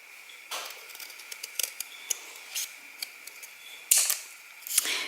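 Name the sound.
scissors cutting thin chipboard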